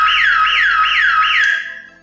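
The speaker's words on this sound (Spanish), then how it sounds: "En cuanto nosotros abramos el switch, se activará la alarma y no nos dejará prender la moto." A motorcycle anti-theft alarm, part of a kill-switch security system, sounds four rapid rising-and-falling siren whoops in close succession, loud and close, then cuts off and leaves a brief quiet tail.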